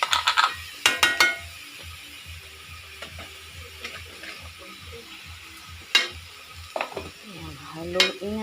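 String beans and chicken stirred in a pan for adobong sitaw, with utensil scrapes and clinks against the pan over a low sizzle, several sharp knocks near the start and a few more later.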